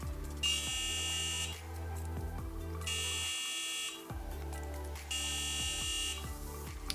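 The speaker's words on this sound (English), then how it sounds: "So let's hear the buzzer, how it buzzes." An electronic buzzer from an IME3D X-Kit sounds in three harsh, evenly spaced bursts, each lasting about a second, over a low steady hum, like an old car horn.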